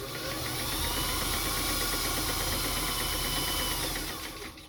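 Brother HA-4 sewing machine stitching fabric, a steady rapid mechanical whirring and clatter running continuously at even loudness, close up, tapering off at the end.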